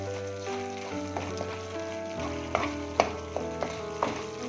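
Ash gourd halwa mixture with sugar and sesame being stirred in a pan, soft scraping and gentle sizzling with a few sharper spoon clicks against the pan, under a steady melodic background.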